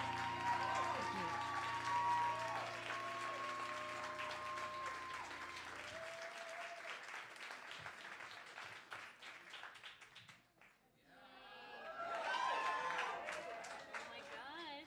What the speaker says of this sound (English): You got entrance applause, little guy.